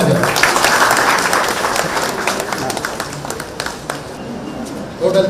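An audience claps steadily and densely throughout a felicitation ceremony led by a district collector at a farmers' event on alternative crops. The applause stays close and loud, swelling slightly at the very end.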